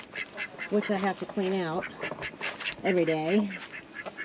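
Ducks quack repeatedly in short nasal bursts, close by, mixed in among a person's talking.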